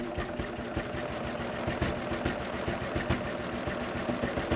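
A sewing machine runs continuously, stitching rayon thread through fabric with a fast, even mechanical chatter of needle strokes, close and steady throughout.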